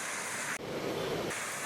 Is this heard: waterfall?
yes